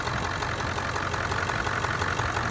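A 7.3 Powerstroke diesel truck engine idles at high idle up close, a loud steady rumble with a rapid even diesel clatter throughout, no talking.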